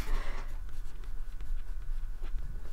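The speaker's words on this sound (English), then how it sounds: "I'm drawing" Pencil or pen scratches steadily across paper, close and continuous, with soft rhythmic strokes and no talking.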